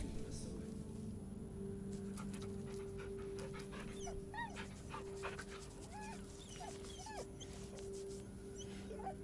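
A dog in the fantasy role-playing game Baldur's Gate 3 whimpers and yips in a run of soft, high whines with light panting, fairly faint against a steady game hum.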